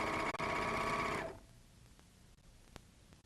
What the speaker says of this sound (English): Begin by stepping on the foot control to sew a chain